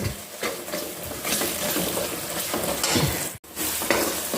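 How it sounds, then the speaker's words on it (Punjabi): Spices and turmeric fry in a pan, a steady loud sizzle with stirring scrapes running throughout and one brief break near the end. "ਲੋ ਜੀ ਮਸਾਲਾ ਭੁੱਜ ਗਿਆ ਹੁਣ ਤੇ ਹਲਦੀ ਵੀ ਭੁੱਜ ਗਈ"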